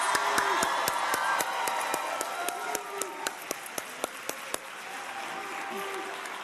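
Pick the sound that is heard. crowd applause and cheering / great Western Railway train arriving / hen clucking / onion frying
crowd applause and cheering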